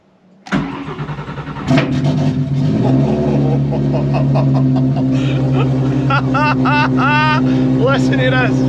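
Mini Cooper S track car engine cranks and fires, then settles into a steady idle with a slight rev, loud and close, with brief speech-like sounds over it.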